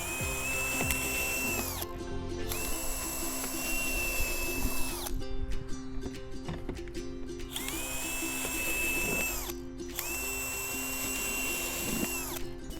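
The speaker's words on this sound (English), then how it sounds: "So now that I've drilled holes into my container" Power drill boring holes into a plastic plant container, whining in several long bursts with short pauses between them, close and loud, with no speech.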